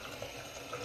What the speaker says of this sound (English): Turn on a little bit of hot water.